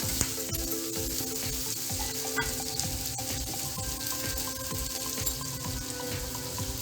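Bitter gourd pieces fry gently in a pan over a low flame, making a dense, even crackling sizzle that stays constant throughout with faint stirring.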